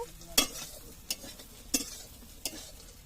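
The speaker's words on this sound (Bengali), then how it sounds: "দেখো সয়াবিন ভাজা হচ্ছে" Soybean chunks frying in a pan, with a soft steady sizzle beneath four sharp stirring clacks of a utensil against the pan spaced roughly evenly, fairly quiet and close, with no talking.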